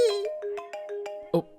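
A mobile phone ringtone plays a short run of bright electronic tones in a quick, even pattern, with a slightly louder final note. It sounds close and clear, and a brief voice comes in at the end.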